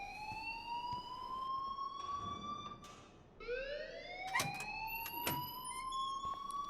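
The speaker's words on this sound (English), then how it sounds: "please turn off that alarm since that's your job" A wailing siren-like alarm rings in the Life is Strange Remastered video game, a steady rising and falling electronic tone filling the scene with a few sharp clanks and bangs layered over it.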